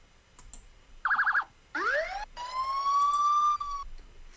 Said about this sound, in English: All of a sudden, she hears a police siren and pulls over her car.